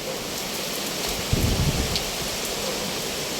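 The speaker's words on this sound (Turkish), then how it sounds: "Burada bir yağmur yağıyor" Continuous rain hisses steadily in Denizli, Turkey, with a brief low rumble and a few heavier patters in the middle.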